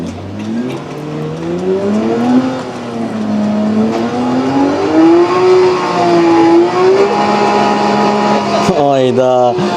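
A Porsche 911 Turbo at the Stuttgart Porsche Museum is started and revved. Its loud, close engine tone rises and falls in sweeping pitch, with a brief sharp jump near the end.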